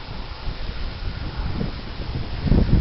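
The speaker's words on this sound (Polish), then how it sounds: "Wiatr wieje, nie wiem czy to się dobrze nagra." Wind buffets the microphone continuously in low rumbling gusts outdoors in Godziszowa, Jawor County, Poland, growing stronger toward the end; nobody speaks.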